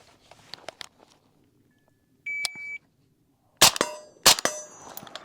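On an outdoor range, a shot timer beeps and a suppressed 11.5-inch 5.56 rifle with a Sig SRD 762 suppressor fires two loud, sharp shots about a second apart, with a few light clicks beforehand.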